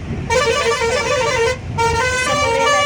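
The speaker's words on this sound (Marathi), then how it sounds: "गाडीचा हॉर्न खूप कर्कश कर्कश कर्कश आवाज" A loud, harsh vehicle horn blares in two long blasts separated by a brief break, close by, on a narrow winding mountain road between Lumbini and Pokhara, Nepal, with road noise underneath.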